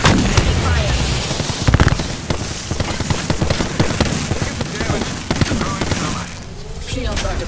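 Gunfire in the Apex Legends video game, with rapid bursts of shots and sharp impacts cracking close and loud over a dense, busy battle mix, firing on and off throughout.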